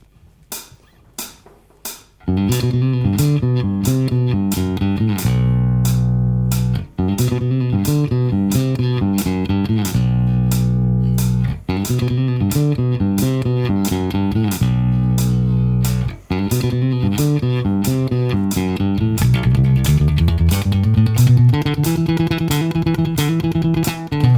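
Electric bass plays a galloping opening riff, loud and close, with fast repeated driving notes in steady phrases and a brief pause between sections, no voices.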